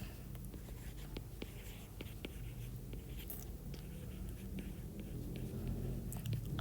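An answer to a sixth-grade math exercise is written by hand, the pen scratching and tapping close up in short strokes over a soft steady background, with no speech.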